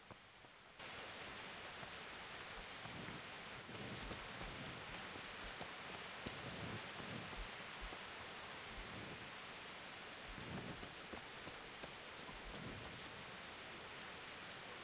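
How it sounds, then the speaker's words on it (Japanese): Steady rain falls in the medieval role-playing game Kingdom Come: Deliverance, a continuous broadband hiss of rainfall with soft scattered patters, running unbroken for about fifteen seconds with no voices. "雨降ってるね。"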